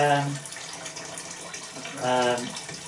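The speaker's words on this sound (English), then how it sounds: "what I'm doing at the minute is just filling the sink up with some hot water" Hot water runs from a tap into a kitchen sink as it fills for softening a homebrew lager kit can, a steady rushing stream with a voice briefly heard at the start and again near the end.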